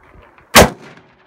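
A single loud, close gunshot from a .40 S&W pistol firing a 10mm-velocity 150 grain Hornady XTP load over Longshot powder, a sharp crack with a short ringing decay and no talk.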